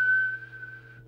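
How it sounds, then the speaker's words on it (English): A steady, sustained whistle lasting about a second, held into the microphone of a Team Transcom 8000 UK PR27/97 mobile CB radio during transmit adjustment, with a faint hum beneath and no talking. "So we'll just set that with the whistle test"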